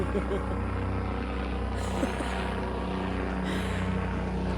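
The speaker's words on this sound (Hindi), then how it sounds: "Look at the helicopter coming." A helicopter flies overhead, its rotor and engine making a steady, even drone that stays loud and constant throughout, with faint background noise mixed in.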